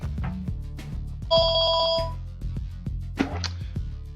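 A telephone rings in a video game, a steady electronic ring with layered tones lasting under a second amid soft game clicks and background sounds.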